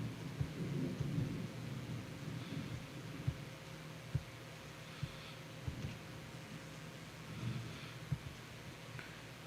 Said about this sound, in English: I don't know if y'all can hear that thunder.